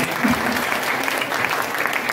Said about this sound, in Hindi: तो एक बार बिहार के लिए जोरदार ताली बजा दें।